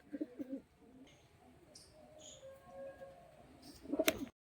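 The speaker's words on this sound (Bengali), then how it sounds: "চোল চটিয়াল কালপেটিয়া গিরিবাজ কলকাতার জেনারেশনের পায়রা।" Giribaj pigeons of the Kalpetia (black-bellied) type coo in a few short, soft bursts, one near the start and a louder cluster at the end, with faint chirps in between.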